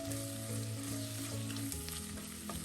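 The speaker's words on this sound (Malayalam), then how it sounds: "അതിൻ്റെ ഉള്ളിയൊക്കെ ഒന്ന് വഴറ്റി കൊടുക്കാം" Small onions sauté in hot oil, giving a steady, dense sizzle with faint stirring scrapes throughout, close and continuous with no voices.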